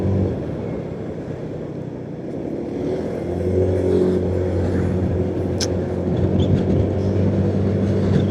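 A car passes on a road near Kediri, a steady engine drone that swells slightly midway and holds loud and near, alone without talk.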